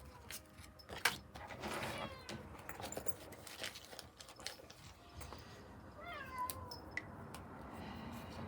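A house cat meows close by indoors, a few short rising cries scattered among soft rustles and handling noises.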